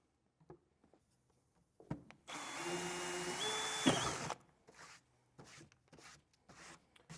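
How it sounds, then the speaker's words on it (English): A power drill whirs loudly for about two seconds, its pitch rising as it bores through, with clicks and handling noises before and after. "I can drill in each of these round sections."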